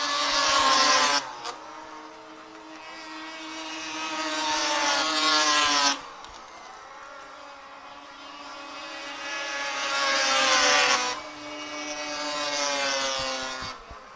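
Pro Mod enduro race cars scream past on the track, two loud roaring pass-bys that rise, shift pitch and fade, with a lower engine drone between them.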